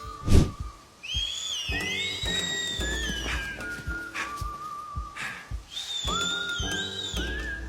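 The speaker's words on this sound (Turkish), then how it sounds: "Dolmuşların arkasından erkek gibi ıslık çalmandan nefret ediyorum." A person whistles a wavering, sliding tune in sharp bursts with short gaps, loud and close, over a low rumbling background.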